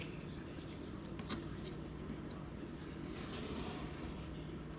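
Paper cut along a ruler for a junk journal photo flap, a faint scratchy scraping under low room noise with a short soft rasp in the middle.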